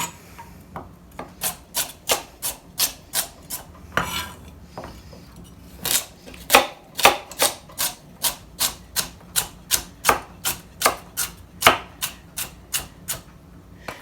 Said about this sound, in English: Cut them down to size a little bit so they're easier to manage